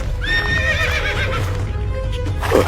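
A horse whinnies loudly and close with a long wavering neigh, over a steady rumbling background and a soft thud near the end.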